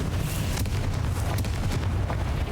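Confringo fire spell explosion in Hogwarts Legacy: a loud, sustained blast with dense rumbling roar and crackling bursts throughout, close and without speech.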